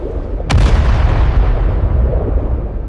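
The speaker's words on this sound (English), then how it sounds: "American destroyers dropped warning depth charges into the sea." A single heavy underwater depth charge explosion lands as a sharp, loud boom, then trails off into a long, deep rumbling roar.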